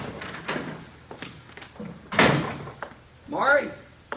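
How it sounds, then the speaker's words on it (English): A kitchen door opens in a 1950 Dragnet radio drama episode, a short wooden clunk and creak heard close up between men's low spoken lines. "Somebody's coming around back, Joe."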